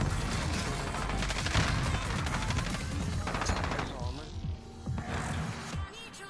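Gunfire in the video game Call of Duty Warzone: rapid bursts of automatic weapon fire with sharp individual shots and thuds, loud and dense across the stretch, mixed with game sounds and a voice talking over it.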